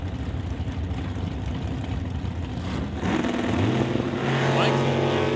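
A 1969 Camaro drag car's engine rumbles at a drag strip, starting as a distant steady roar and then growing louder and rising in pitch as it revs, with voices mixed in.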